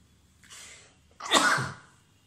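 One person sneezes indoors, a soft inhaled build-up followed by a sharp, loud burst of breath, close and alone in an otherwise quiet room.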